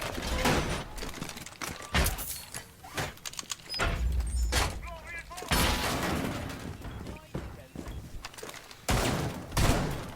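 Rapid bursts of gunfire from a competitive tactical shooter match tear open a destructible wall, with loud volleys and clattering impacts repeating across the stretch and a voice talking intermittently underneath.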